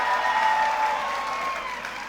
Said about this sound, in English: A big round of applause for Arun Sharma and all the Celebrate India team